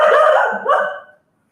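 Lola, a dog indoors, lets out a single loud, close bark that is drawn out into a brief yelping tail before silence.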